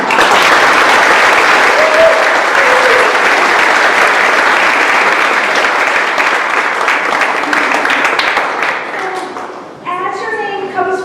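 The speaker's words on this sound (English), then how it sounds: "Please, let's give him a round of applause for his leadership." Sustained, loud applause from an audience at a school National Honor Society induction, a thick steady roar of clapping that thins out near the end as a voice begins speaking.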